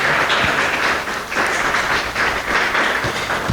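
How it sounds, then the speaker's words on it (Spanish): A church congregation gives loud, sustained applause at a morning worship service, a dense wash of clapping that swells and dips slightly without any voices over it. "Denle un fuerte aplauso al Rey de Gloria en esta mañana."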